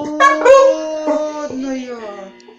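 A hungry dog howls and whines in a series of drawn-out, wavering cries, loud and close, rising and falling in pitch with short breaks between them.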